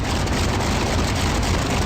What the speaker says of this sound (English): hope you guys can hear me okay with this darn engine